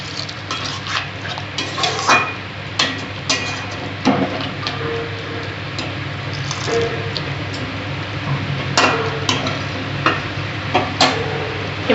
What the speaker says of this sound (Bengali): আমি আবার একটু জল দিয়ে দিচ্ছি অল্পই জল দেবো